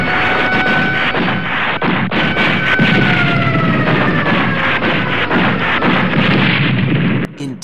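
Naval battleship guns of the Hood firing on the French fleet at the port of Mers-El-Kebir, a continuous loud barrage of booming blasts and bursts with a rising whine, ending abruptly.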